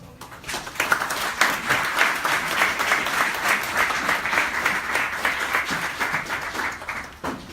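An audience applauding a prime minister as he takes the podium at George Washington University, a steady dense wave of clapping that runs evenly throughout, fairly loud and unbroken.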